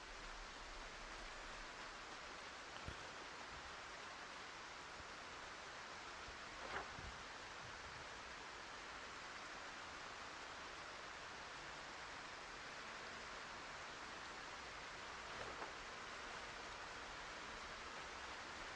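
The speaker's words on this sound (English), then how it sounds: "Rain even picked up harder too." Heavy rain falling steadily in the woods, a dense, even hiss throughout with a few faint drips or knocks and no voices.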